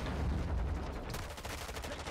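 Gunfire bursts from a shotgun in a multiplayer shooter video game, rapid loud blasts packed together over about two seconds with no talk.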